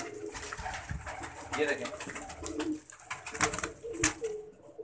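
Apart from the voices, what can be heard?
pigeons cooing inside loft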